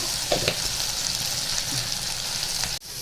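Ginger paste sizzles steadily in a hot pan with turmeric, a continuous crackling fry with a few light stirring scrapes, close and fairly loud, cutting off briefly near the end.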